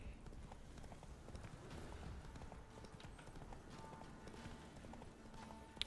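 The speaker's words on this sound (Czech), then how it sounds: "Tak, nasedni na koně, Geralte." Rapid hooves clip-clop in a steady galloping rhythm in The Witcher 3: Wild Hunt, faint and continuous against a low background hum.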